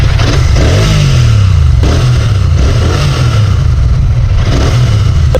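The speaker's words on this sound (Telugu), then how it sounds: "అందరికి తెలిసిందే royal Enfield 650cc parallel feel engine ఎలా సౌండ్ చేస్తాయని చెప్పి" A Royal Enfield Classic 650 with its 648cc parallel-twin engine revs loudly up close, rising and falling in repeated throttle blips over a steady idling throb.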